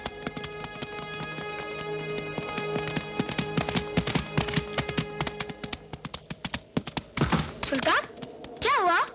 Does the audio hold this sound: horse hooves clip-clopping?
yes